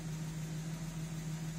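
A Porsche 996 with a 3.4L engine idles steadily after being refitted and restarted, a low, even hum that holds constant throughout with no talk over it.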